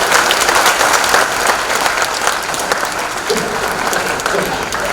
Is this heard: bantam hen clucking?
no